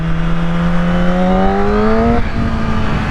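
A Yamaha R9 motorcycle engine close by, its pitch climbing steadily under acceleration, then dropping abruptly at an early short-shift gear change before pulling again.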